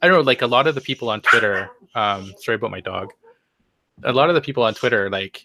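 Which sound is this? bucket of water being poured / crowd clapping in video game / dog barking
dog barking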